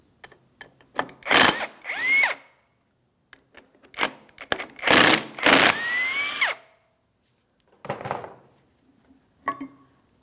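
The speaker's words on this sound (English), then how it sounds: "to remove the slider pins, we're going to be using a T55 Torx bit for each of these" A power tool fitted with a T55 Torx bit backs out the brake caliper slider pins on a 2007-2014 GMC Sierra 2500 HD. Several loud, close whirring bursts rise and fall in pitch, separated by clanks and short pauses.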